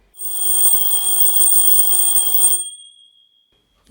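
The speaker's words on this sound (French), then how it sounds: "Chaque matin, quand son réveil sonnait," An alarm clock rings with a bright, continuous metallic trill for about two and a half seconds, loud and close, then cuts off to silence.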